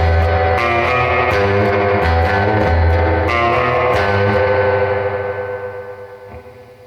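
Guitar played through a CTC Mirage reverb pedal set to its Springy spring-reverb mode, loud sustained chords with distorted edge and a washy tail that swells and then fades out over the last seconds, no voices.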